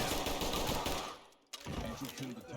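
Dense, sustained gunfire in the Ready or Not tactical shooter, rapid bursts filling the first second and a half, a brief lull, then shooting resumes loud and close.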